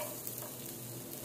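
Garlic frying in hot cooking oil in a pan, a steady dense sizzle with fine crackle that stays even and close throughout.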